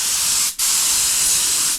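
A steering rack is sprayed with a fine coating for 3D scanning. The continuous loud, close hiss of atomized spray cuts off briefly once, then resumes and stops again.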